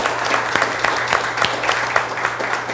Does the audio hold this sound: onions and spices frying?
no